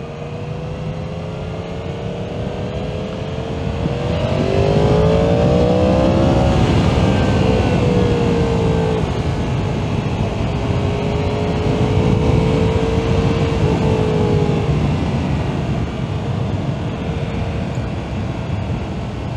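A Yamaha MT-10 SP motorcycle fitted with a Leo Vince Corsa exhaust runs continuously on the road, its engine note rising and falling as it accelerates and eases off, loud and close throughout.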